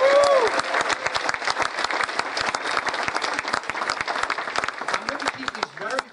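Applause for graduates at a 2013 Porter and Chester Institute graduation ceremony: a large crowd claps steadily and loudly throughout, with some cheering voices mixed in, fading slightly near the end.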